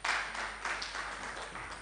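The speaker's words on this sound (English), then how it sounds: "Clap for yourselves." Workshop participants at a language training session applaud themselves, a dense, even burst of many hands clapping at moderate volume that holds steady throughout without talk.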